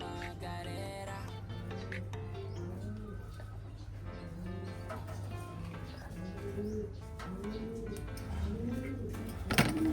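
Soft, repeated cooing from racing pigeons throughout, layered with a steady low hum and faint background chatter; a brief louder rustle near the end.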